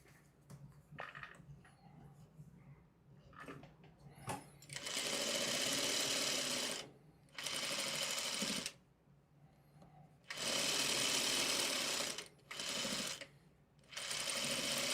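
Sewing machine stitching two pieces of fabric together, running in several loud, sustained bursts separated by short pauses, with faint handling noise before the first run.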